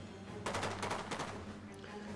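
A short rapid volley of automatic gunfire crackles for under a second in Dead Rising 2 as the military arrives, then trails off into a low background hum.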